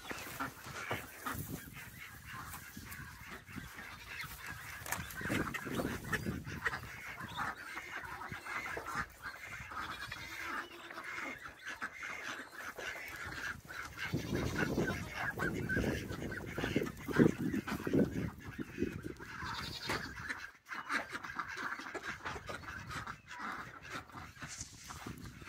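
A flock of ducks in muddy ground honks and quacks continuously, loud and overlapping, with splashing and shuffling through the noisy chorus.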